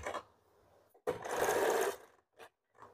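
A sewing machine stitches a blouse slowly in short bursts: one brief run, then a longer steady whirr, followed by a few quick separate spurts, all close by with no talking.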